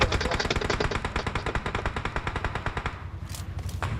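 Rapid automatic gunfire in PUBG Mobile, a steady fast stream of shots for about three seconds that then thins out into a few scattered single shots, loud and close, with no talking.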